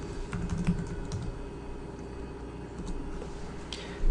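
Keys clatter on a computer keyboard while a command is entered at a Windows command prompt, a steady stream of soft, close clicks with a brief louder tap at the very end.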